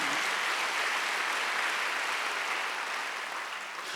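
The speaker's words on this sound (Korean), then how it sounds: "박수를 하세요." A church congregation applauds during a Sunday worship service, a steady dense wash of clapping that holds evenly for several seconds before easing slightly at the end.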